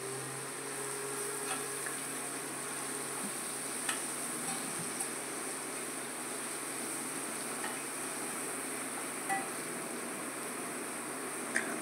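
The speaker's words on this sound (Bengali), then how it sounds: "ওই তেলের মধ্যে থোড়টা একটু কষিয়ে নেব," Banana stem being fried and stirred in hot oil after potatoes were browned, a steady, moderately faint sizzle with occasional small clicks and taps throughout, no voices.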